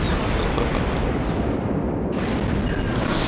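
Automatic burst gunfire in a video game: a loud, dense, unbroken roar of rapid shots lasting several seconds, with no voices over it.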